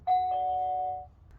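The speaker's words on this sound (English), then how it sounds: "Here is the classic ding dong." Nest Doorbell Battery playing its classic ding-dong chime: two clean electronic tones, a bright ding then a lower dong that rings out and fades within about a second, alone and close.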